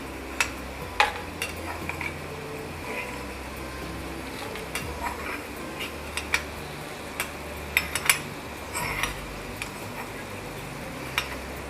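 A spoon gently stirring paneer and ghee-fried cashews through a shahi kaju paneer curry, with soft scattered clinks against the pan over a low cooking background, close and fairly quiet, with no speech.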